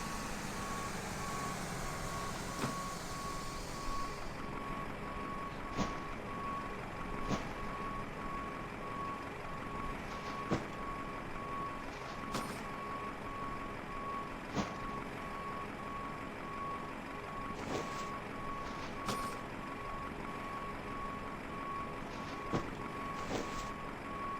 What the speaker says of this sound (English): Your passenger's bus is coming.